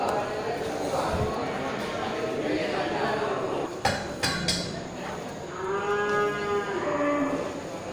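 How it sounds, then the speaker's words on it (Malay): Cattle low repeatedly at a busy livestock market ahead of the Eid al-Adha sacrifice, the moos rising over crowd chatter, with a few sharp clanks midway and drawn-out calls near the end. "Ya, ini sapi punya Bang Moli juga nih kan"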